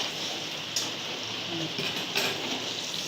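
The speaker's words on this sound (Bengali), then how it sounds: "দেখুন বাইরে কি মুষলধারে বৃষ্টি হচ্ছে" Heavy rain pours steadily outside, a dense, even hiss with a few brief louder bursts, heard from indoors in a kitchen where egg fried rice is being fried.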